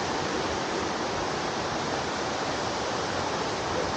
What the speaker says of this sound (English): a lot of water running through here.